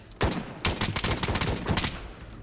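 Gunfire in the survival video game DayZ rings out as a rapid burst of several loud, sharp shots close together, with quick successive cracks and echoing tails.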